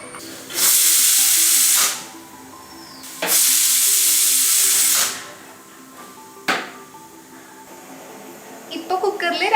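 Water poured into a pan of jaggery for jackfruit halwa gives two loud bursts of hissing sizzle, each lasting a second or two, followed by quieter bubbling and stirring.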